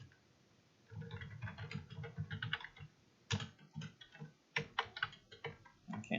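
Close fingers type on a computer keyboard, clusters of quick clicking keystrokes with brief pauses between bursts, quiet and alone.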